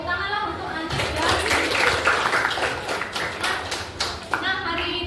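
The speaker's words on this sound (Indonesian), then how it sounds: "tepuk tanganlah untuk Anis ya" Audience clapping in a classroom teaching session, a scattered burst of hand claps with irregular sharp taps that thins out and returns, mixed with voices.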